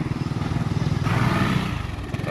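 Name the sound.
FKM Slick 400 400cc maxi scooter engine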